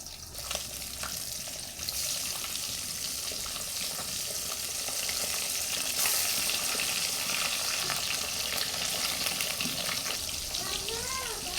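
Swarnaputi fish pieces frying in hot salted oil, a steady broadband sizzle running throughout with faint clinks and some background voice.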